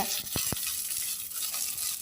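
Steady sizzling of brinjal pieces, small onions, tomato and curry leaves frying in a hot pan, with a couple of quick scraping stirs near the start.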